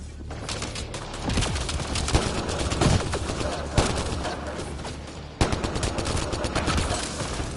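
Enemy gunfire in Mass Effect: Andromeda, a continuous fusillade of rapid automatic shots with a few heavier thumps, loud and close, with voices speaking amid the shooting.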